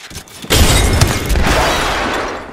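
A frag grenade detonates in the video game Apex Legends, a sharp booming blast about half a second in followed by a long rumbling, debris-like decay, loud and alone.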